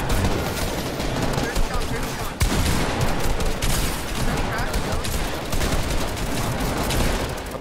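Rapid, dense gunfire from a Fortnite match during a competitive FNCS heat, bursts of shots overlapping almost continuously for several seconds at close range, with players talking over the fighting.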